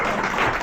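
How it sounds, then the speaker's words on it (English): A room of people applauding at a cooking school inside the world's largest Macy's, a short burst of dense, loud clapping heard up close. "can we just give a round of applause to Hemant, please?"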